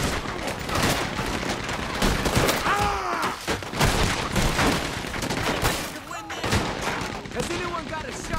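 Machine gun fire in Red Dead Redemption 2, a dense continuous rattle of shots with occasional heavier booms under shouting voices and game chatter throughout.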